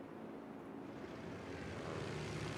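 Video game bomber planes take off for an attack, a steady propeller-engine drone swelling slightly, fairly quiet and with no speech over it.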